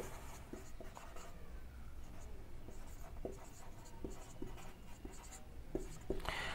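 A pen or pencil writes a formula for the radius of an athletic track on paper. It gives faint, quiet scratching with short strokes and small taps at irregular intervals.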